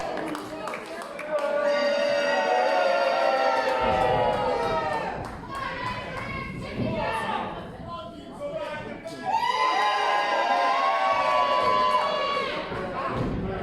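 Crowd cheering and shouting at a wrestling show, loud and sustained across the clip with a dip in the middle before surging again, many voices blending into a dense roar.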